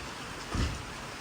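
Light drizzle falling steadily at a house construction site, a faint even hiss with one soft low thud midway and no talking.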